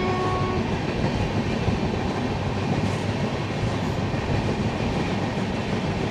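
Paharia Express LHB passenger train running through Jirat station, a steady, loud rumble of wheels on rail heard from onboard, continuous throughout with no pauses.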